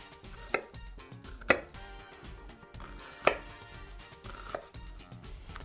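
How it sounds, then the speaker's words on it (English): A knife chops through an onion during taco cooking: several sharp, crisp chops land at irregular intervals over a low kitchen background, with no talking. "I'm gonna take this onion, cut it in half, cut it up"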